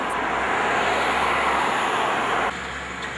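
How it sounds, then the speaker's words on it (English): Police helicopters fly over downtown Vancouver during the 2011 Stanley Cup riot, heard as a steady, loud broadband drone of rotors and engines from a distance, dropping slightly in level near the end. "I am assuming those are police helicopters."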